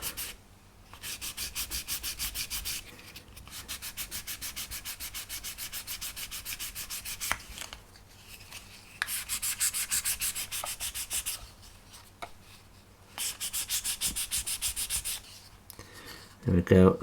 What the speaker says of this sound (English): So I'm going in with a 400 grit just to take that off.